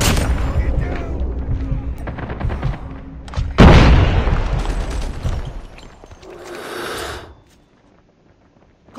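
A grenade explodes with one loud, close boom that decays into a rumbling tail, amid the clatter of combat and people talking before and after.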